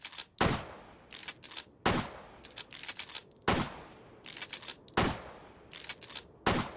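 Gunshots in the virtual reality video game Hot Dogs, Horseshoes & Hand Grenades ring out as five loud, sharp single shots at roughly regular intervals, with quieter mechanical clicks and handling noises between them.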